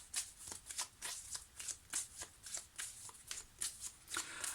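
Oracle cards being shuffled and laid out: a quick run of soft, papery riffles and slaps, repeating about two to three times per second, close and fairly quiet, with no talking.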